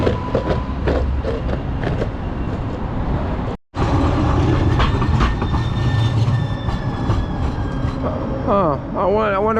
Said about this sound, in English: I wonder where that train's going